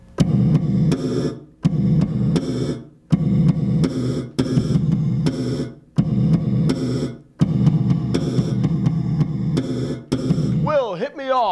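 Bass guitar popping through a gated reverb, loud bursts of slapped notes each cut off abruptly into short silences, repeating in a chopped rhythm, with a voice speaking briefly at the very end.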